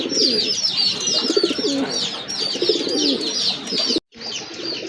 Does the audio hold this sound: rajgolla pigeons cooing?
yes